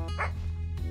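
A dog barks in the video game Something In The Well, a single short close yip over a steady low background hum.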